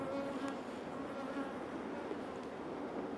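Honey bees buzz steadily around a five-frame nuc box being opened for installation, a soft, continuous swarm drone heard close by and alone.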